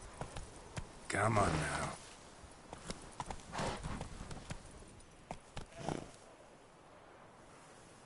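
Horse hooves clip-clop in the Witcher 3 Wild Hunt video game as a series of distinct, fairly faint hoofbeats, with a brief snort, while someone speaks briefly.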